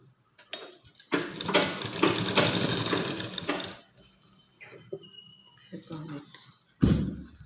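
A sewing machine stitches a hem along a folded fabric strip in a short, rapid, whirring burst of needle clatter, followed by quieter clicks and handling noises, with a voice speaking nearby.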